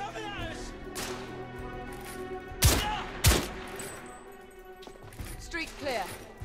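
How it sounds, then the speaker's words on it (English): Gunfire in the video game The Order: 1886, two sharp, loud shots close together over a busy game soundscape, with further scattered shots and voices. "The shooting is pretty cool"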